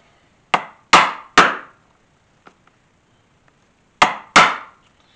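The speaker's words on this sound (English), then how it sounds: "this is a sharp, rounded awl that makes a real nice, clean hole" A sharp, rounded stitching awl is struck through dye-softened leather on a rattlesnake holster, giving five crisp, loud knocks, three in quick succession, then a pause with faint ticks, then two more.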